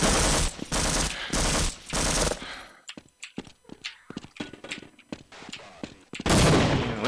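A video game gun fires in short bursts, with sharp, loud cracks clustered near the middle amid other dense game sound and noise.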